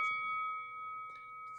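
A single faint bell ding rings out and sustains as a thin clear tone, with soft background rustle and a brief tap underneath.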